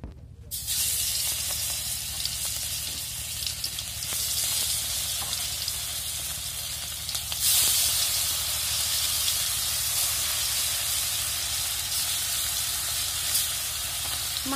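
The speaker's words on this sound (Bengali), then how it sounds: "কড়াইটা গরম হয়ে গেছে তেল দেওয়া হয়ে গেল" Fish frying in hot oil in a wok during village cooking: a loud, continuous close sizzle and hiss runs the whole time, with faint stirring scrapes and no talk.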